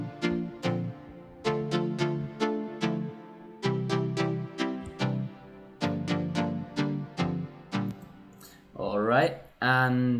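A layered synth lead melody from a breakdown of a song plays alone, with repeated plucky notes in phrases and a brief pause. A voice begins speaking at the very end.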